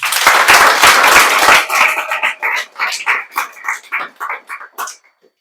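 An audience applauds a student who cracked the IIT entrance exam. The clapping is loud and dense at first, then thins into a run of separate, fading bursts before stopping.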